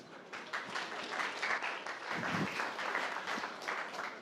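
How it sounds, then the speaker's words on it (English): Steady applause from an audience at a startup pitch event, continuous clapping that holds at an even level throughout without a break. "a round of applause"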